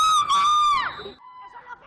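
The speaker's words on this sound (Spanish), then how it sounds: "en medio de los gritos de los allegados de las dos víctimas en el exterior de los juzgados de Cuenca" Relatives of two victims shouting outside the Cuenca courthouse, a loud high-pitched scream or yell lasting under a second, followed by fainter distant crowd voices.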